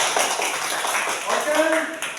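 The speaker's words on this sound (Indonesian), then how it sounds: "Silakan tepuk tangan buat kelompok 1" A classroom group claps for the first student team after its presentation, a short burst of scattered hand claps mixed with voices.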